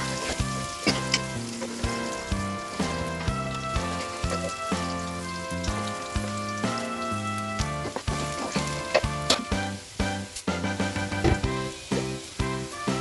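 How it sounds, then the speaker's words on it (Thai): Sliced shallots fry in a little oil in a pan for a Karen-style roselle leaf chili dip, giving a steady, close sizzle with frequent stirring scrapes and spatters throughout, alone without talk. "ใส่น้ำมันเล็กน้อย ใส่หอมซอยค่ะ รอจนหอมซอยหอมแล้วก็สุกนะคะ"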